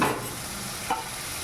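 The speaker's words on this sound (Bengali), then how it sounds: "এই দেখুন তিল বাটা দিয়ে দিল" Ground sesame paste fries with eggs in a pan, giving a continuous soft sizzle with one brief stirring scrape partway through, close and moderate in level.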